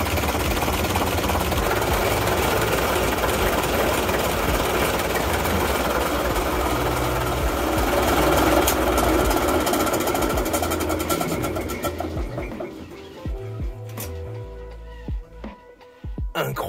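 Boat engines run at Brescou near Cap d'Agde, a loud steady mechanical drone and rattle that holds for several seconds, then thins out into sparser knocks and sputters toward the end.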